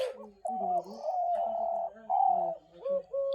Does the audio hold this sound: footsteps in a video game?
no